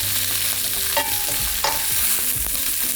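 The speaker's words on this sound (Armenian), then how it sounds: "Թող տապակվի։" Chinese cabbage stalks, the thick white parts of the leaves, sizzle loudly in a hot pan, with a couple of sharp stirring scrapes and clinks over the steady fry.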